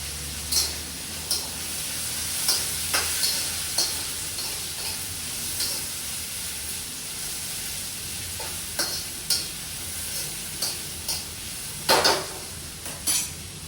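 Onion and coconut masala paste being sautéed in a pan for misal, with a soft steady sizzle and scattered stirring scrapes and light clinks throughout, no talking.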